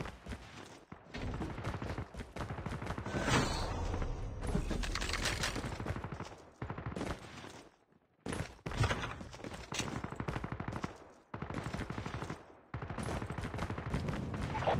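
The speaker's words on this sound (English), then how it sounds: "Assault rifle here." Assault rifle fire in Call of Duty Mobile, long loud sustained automatic bursts broken by brief pauses, close and dominant throughout.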